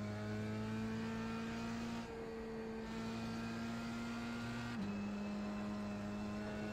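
Dallara F3 race car engine on a racing simulator at Barcelona, a steady loud engine drone holding high revs with tonal harmonics, briefly dipping around two seconds before recovering, no talk over it.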